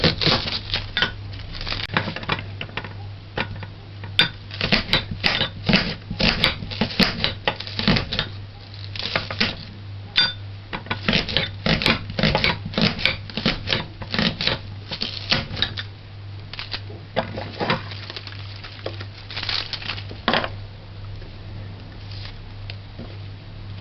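A knife chops pepper on a board for curried river shrimp, giving rapid, irregular close taps and clicks that run continuously with a steady low hum beneath and no talk.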